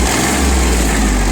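A Mitsubishi MT155 diesel mini tractor fitted with a rotary tiller runs loud and close, its engine a steady, dense rumble with a hint of revving.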